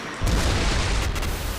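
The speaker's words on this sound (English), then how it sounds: "It's an explosion so big, people nearby think it's an earthquake." A house blown apart in a firefighter training burn, set alight with a highway flare: a sudden heavy boom opens into a sustained, loud low rumble that carries on for over a second with no voices.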